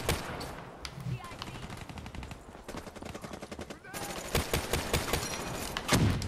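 Repeated MX Garand rifle shots in Black Ops 3 gameplay crack out in quick succession, loud and close, over a dense bed of game battle noise with scattered distant gunfire.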